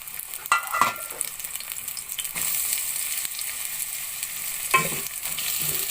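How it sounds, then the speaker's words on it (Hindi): Long-sliced onions sizzle and crackle steadily in hot oil in a pan, with occasional stirring scrapes over the continuous frying hiss. "अब इस प्याज को मैं ब्राउन कर लूँगी।"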